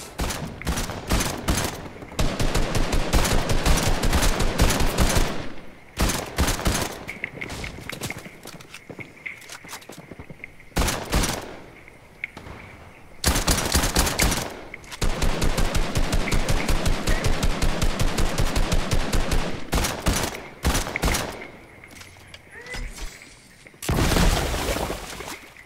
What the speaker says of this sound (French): Ouais, quelqu'un m'a tiré sur moi.